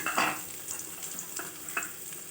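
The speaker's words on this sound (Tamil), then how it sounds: "நம்ம சின்ன வெங்காயம் நல்லா வதங்கி வரட்டும்." Small shallots and cumin sauté in a pan for a fish kuzhambu, a light sizzle under a few scraping stirs and occasional spoon clinks, with no one speaking.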